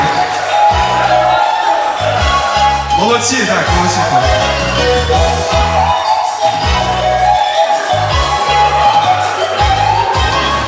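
Wedding guests applaud and cheer for Cossack-trouser balloon contestants at a Ukrainian wedding, a steady, close, lively crowd noise running throughout with someone talking over it.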